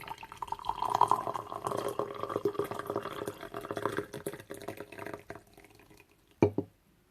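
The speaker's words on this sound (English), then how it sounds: "I'm going to pour my first cup." Chamomile and lemongrass herbal tea is poured into a cup as a steady liquid stream for several seconds. It tapers off, followed by a couple of brief clinks and drips near the end.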